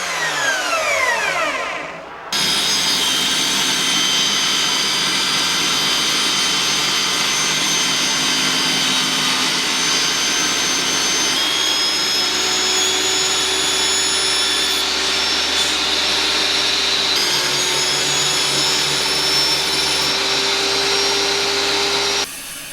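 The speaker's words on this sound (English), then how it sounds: "which were cut to size using the track saw and table saw" Power saw running continuously through pine furniture board, a steady loud whine with strong tonal harmonics after a brief spin-up, the pitch shifting slightly as the blade works through the cut, with no voices.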